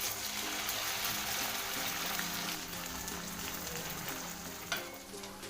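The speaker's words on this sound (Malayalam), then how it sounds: "എണ്ണ ചൂടായിട്ടുണ്ട്, അതിലേക്ക് നമുക്ക് ചെമ്മീൻ ഇട്ട് കൊടുക്കാം." Shrimp fry in hot coconut oil with a steady, fairly soft crackling sizzle and occasional stirring sounds, and no one speaks.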